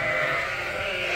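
Ewes and lambs in a farm pen bleat in a close, loud, continuous chorus of overlapping calls.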